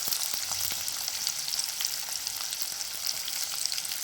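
Onions and curry leaves sauté in a hot pan for mushroom thokku, giving a close, steady, crackling sizzle with faint stirring clicks and no voices.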